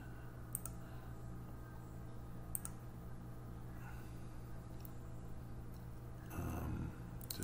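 A computer mouse clicks while a birdhouse is drawn in CAD software. A few faint, sparse clicks sit apart from one another over a low, steady room hum.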